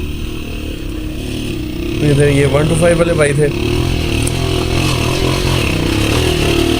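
A Yamaha YBR motorcycle labours uphill in the Margallah hills, its engine droning loud and steady with a rise in revs partway through, while someone talks over it.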